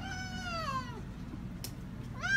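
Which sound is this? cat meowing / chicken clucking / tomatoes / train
cat meowing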